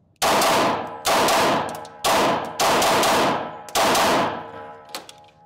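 A DR rifle fires five loud, sharp shots in a slow, even rhythm at an outdoor range, each crack followed by a ringing decay.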